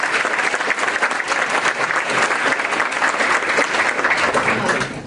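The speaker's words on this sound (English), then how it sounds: "So one more round of applause for them." Loud, sustained applause fills a hall at an Elks awards evening, many hands clapping in a dense, steady roar that tapers slightly at the very end.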